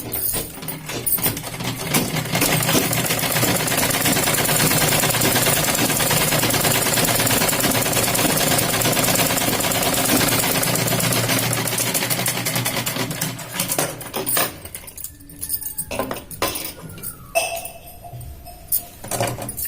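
A sewing machine stitches a seam on a katori blouse with a square neck, running steadily and loud at close range for about fourteen seconds before stopping into quieter handling noises.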